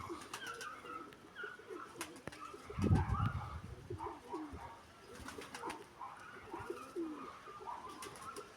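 Soft cooing of a Nikolaev pigeon in the background, partly buried under low rumbling noise, with a brief louder thump midway.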